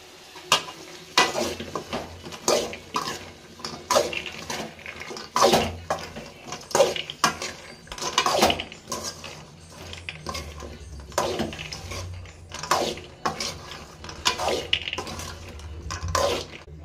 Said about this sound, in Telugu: వేసుకొని ఒకసారి కలుపుకుందాం.